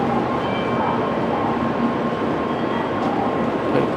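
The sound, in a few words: Shinkansen bullet train at Tokyo Station platform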